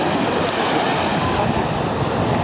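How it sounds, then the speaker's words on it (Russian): Mediterranean Sea surf on a beach outside the city, a steady, loud wash of breaking waves with wind rushing across the microphone and no pauses throughout. "Знакомьтесь, Средиземное море."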